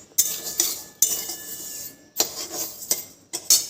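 Fennel, carom, fenugreek and cumin seeds dry roast in a pan, with sharp scraping and clinking bursts of a spoon against the metal, separated by short pauses and no talking.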